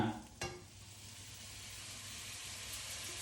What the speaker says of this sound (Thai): ใส่ลงไปแล้วก็คนนะคะรอให้กุ้งมันเหลืองนะคะ